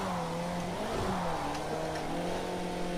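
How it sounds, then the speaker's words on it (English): Turbocharged Ferrari in the racing game Project Cars 2, a steady engine drone with a rising and falling whine as the turbo spools, moderately loud and continuous without talking. "that sound of that turbo spooling up"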